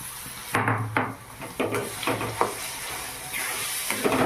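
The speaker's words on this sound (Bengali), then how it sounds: "এর মধ্যে বেটে রাখা ডাল কড়াইয়ে দিয়ে দিলাম।" Ground lentil paste, added to a wok with fried green chilies, sizzles while being stirred, with a few scraping clinks of a utensil against the pan at irregular intervals.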